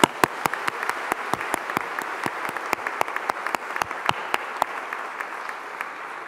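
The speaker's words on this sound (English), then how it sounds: "So why don't we give them a round of applause?" Audience applause at a university graduation ceremony in Greenwich, a sustained, fairly steady wash of many hands clapping, with sharper individual claps standing out near the front throughout.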